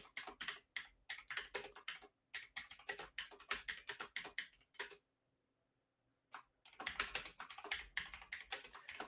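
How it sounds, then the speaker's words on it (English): Loud clacky computer keyboard typing, rapid continuous keystrokes close up with a short pause midway before the typing resumes. "Loudest keyboard in the business."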